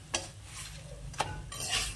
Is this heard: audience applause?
no